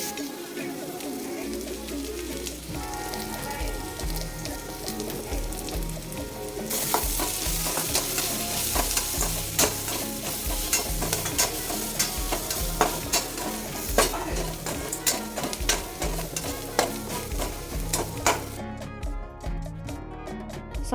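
Onions sauté in a pan for samosa stuffing, with continuous sizzling and frequent stirring scrapes that grow louder and busier partway through.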